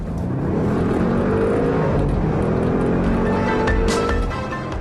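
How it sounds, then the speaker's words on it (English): An Audi RS6 Avant accelerates hard on the open road, a loud, steady engine roar holding for several seconds with a rising whine near the end and no talking. "The Avant responds to the gas instantly."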